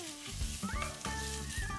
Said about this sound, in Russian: Убавьте огонь на средний и регулярно помешивайте, чтобы паста равномерно распределилась среди содержимого кастрюли.